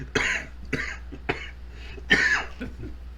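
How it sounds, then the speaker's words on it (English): Several harsh coughs in a row, close up, with short pauses between the bursts. "Coughing on the fucking camera."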